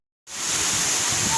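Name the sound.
waterfall at Baha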